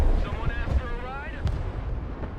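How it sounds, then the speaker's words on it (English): Artillery fire in the Broken Arrow war game, with deep booms and rumbling impacts under a rising and falling whistle, while a voice talks over the battle noise. "Excellent use of artillery for sure."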